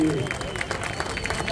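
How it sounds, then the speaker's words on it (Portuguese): Crowd applause at a surf awards ceremony in Saquarema for the South American surfing champion; a continuous wash of clapping and crowd noise at moderate loudness with a voice over it. "uma salva de palmas para Matheus Erdi!"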